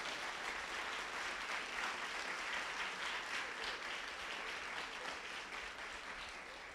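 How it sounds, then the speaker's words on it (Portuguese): A church congregation applauds during a Sunday anniversary service, a dense, steady wash of clapping from many hands that fills the room for several seconds without pause. "Você pode aplaudir o Senhor Jesus por isso?"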